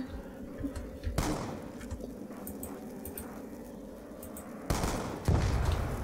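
Rapid bursts of gunfire in Call of Duty: Black Ops II Zombies crackle over a steady low rumble, with a couple of louder volleys near the end.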